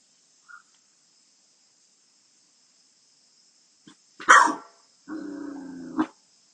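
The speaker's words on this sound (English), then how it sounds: "Sound of the crickets. Sound of dogs." A sharp dog bark followed by a longer yelping call in a quiet night among trees, with a faint thin chirping of crickets in the background.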